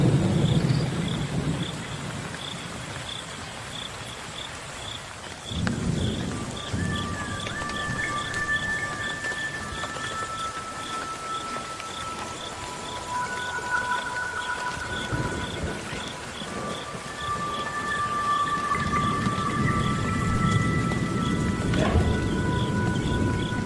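Thunderstorm over the Okavango with steady rain falling on surfaces, low rolling thunder swelling and fading several times, and faint insect or bird calls threaded through the downpour.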